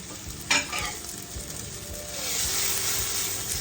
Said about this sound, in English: So now we're gonna stir in the beef and tomato.